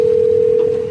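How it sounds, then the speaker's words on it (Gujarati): A steady telephone dial tone hums as a single continuous pitch, loud and close, fading slightly at the very end while a call is being placed. "કરવો જોઈએ ફોન."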